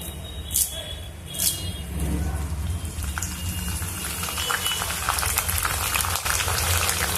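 Mustard seeds, cumin, dried red chillies and curry leaves sizzle in hot oil for a bottle gourd curry, a steady close crackling fry with a couple of sharp pops near the start.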